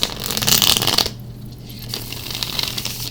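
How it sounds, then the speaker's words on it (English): A tarot card deck being shuffled by hand, with a burst of riffling card flutter in the first second, then softer intermittent shuffling rustles that continue through the rest of the clip. "just got a few shuffles left here"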